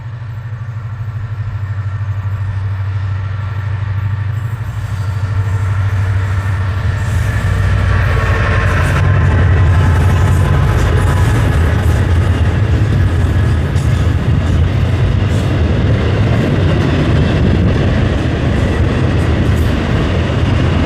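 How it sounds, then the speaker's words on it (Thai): A train rolls through an old railway tunnel bored through a mountain in Thailand, its deep rumble swelling as it nears and then filling the space with loud, sustained clatter and rattling wheels. "รถไฟกำลังเล่นมา ผ่านอุโมงค์เก่านะฮะ"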